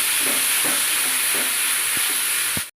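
Chopped tomato and green chili being stirred in a pan during a Bengali barbati and kalai bhuna, a steady sizzle with a few soft scraping strokes of the spatula, close and alone.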